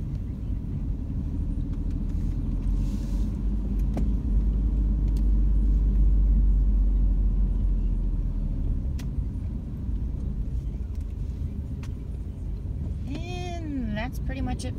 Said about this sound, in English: we're gonna go ahead and drive the neighborhood real quick.